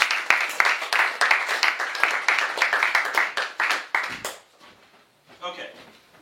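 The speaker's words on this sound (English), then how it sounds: "Let's have a round of applause for the volunteer." Onstage at a comedy act, an audience applauds a volunteer with brisk, fairly close clapping for about four seconds, then it fades and a voice speaks.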